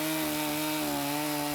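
Chainsaw carving into wood, a steady, loud engine drone with a constant pitch that runs throughout without pause and without any voices.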